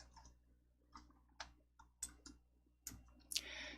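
Computer mouse clicks on a desk, a handful of quiet, sharp, close clicks spaced irregularly, some falling in quick pairs, with no talking.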